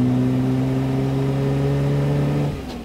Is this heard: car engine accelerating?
yes